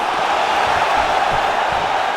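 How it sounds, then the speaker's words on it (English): Arena crowd in the EA Sports UFC 5 video game during a simulated fight, a steady, loud, continuous roar of many voices with no distinct peaks. "you hear the crowd react every time they come together"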